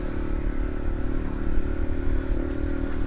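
A courier's motorcycle under way on the road, a low rumbling engine drone with rattling clatter and wind, close and continuous, with no one talking.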